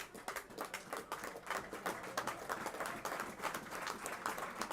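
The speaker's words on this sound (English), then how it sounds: "A round of applause you can hear as Joe Ferguson makes his way back to the changing rooms" Applause ripples around a non-league football ground as a footballer walks off toward the changing rooms, a continuous patter of many hands at moderate distance.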